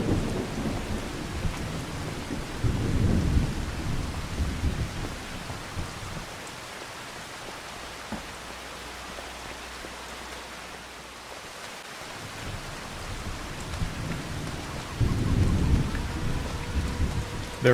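Steady rain hisses on surfaces while low thunder rumbles swell and fade in Farming Simulator 25 during an olive harvest, rising loud at the start and end with a calmer stretch in the middle.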